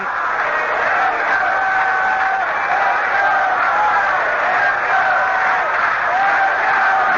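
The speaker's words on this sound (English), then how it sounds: "Phil, I've never seen a crowd react to a pitcher like this, and I caught 2 no-hitters." A baseball crowd at Yankee Stadium cheers a pitcher in a lively roar, heard through a thin, muffled vintage radio broadcast. The sustained crowd noise stays steady throughout with no clear breaks.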